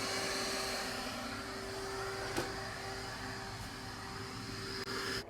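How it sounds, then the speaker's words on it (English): A vacuum pulls air through an A/C condensate drain line, making a steady, faint whooshing hum with a thin constant whine and one brief tick partway through. "you're going to hear the air pulling through this drain system"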